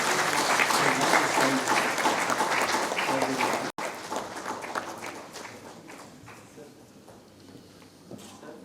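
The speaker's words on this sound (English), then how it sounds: "A big round of applause, please." Audience applause at a hotel and restaurant association HR summit, dense and sustained clapping from a large crowd that gradually thins and softens over the closing seconds.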